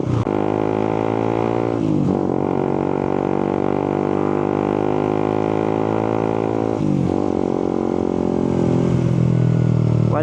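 A Suzuki GSX 150 motorcycle fitted with an aftermarket exhaust on a stock ECU revs loudly and close by, its engine note holding a steady, buzzy drone that briefly dips and swells twice before climbing again.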